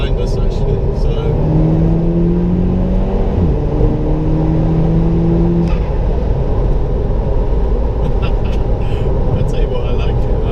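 A tuned Mk5 Golf GTI engine, about 350 bhp, revs up and accelerates with rising tone, loud and close, over continuous road rumble inside the cabin.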